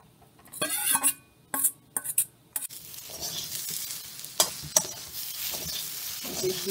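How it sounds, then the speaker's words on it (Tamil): Beans and lentils for paruppu usili are stirred in a hot pan, with a few loud spoon scrapes and clanks at the start giving way to a steady close sizzle and more scraping. "இப்போ பீன்ஸு போட்டுடலாம்"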